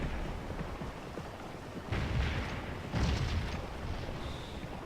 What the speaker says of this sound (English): that cannon shot stopped them.